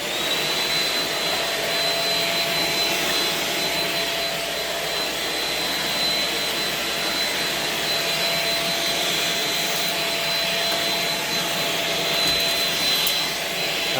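A Shark Rocket stick vacuum runs on a laundry room floor with a steady, loud, high-pitched whine and airy rush that stays constant throughout, without any talk.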